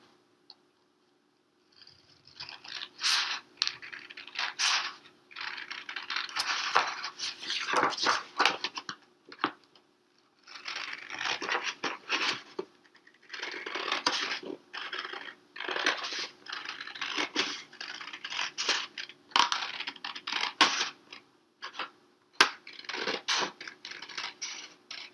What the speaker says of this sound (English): I'm going to cut along that line with my scissors